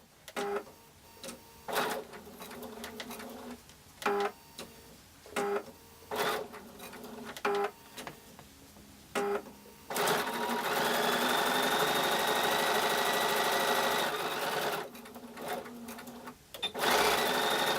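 A sewing machine stitching felt runs in short bursts of rapid stitching separated by brief pauses, then settles into a longer continuous whir before stopping and starting again.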